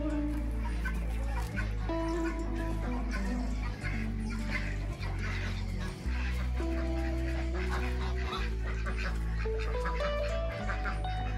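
Chickens cluck and call in a rural farmyard during rain, several birds chattering continuously and close, layered over a dense, steady background.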